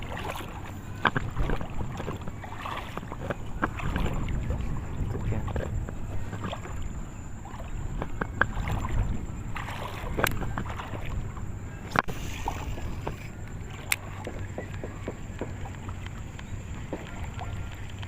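Gusting wind buffets the microphone while fishing in urban floodwater, a constant rumbling roar with scattered small clicks and knocks, no talking.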